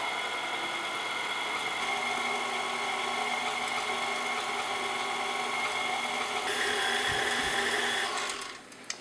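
A steady electric mixer whirs at constant speed while beating cinnamon roll dough after yeast is added, running alone at a loud, even drone before cutting off near the end.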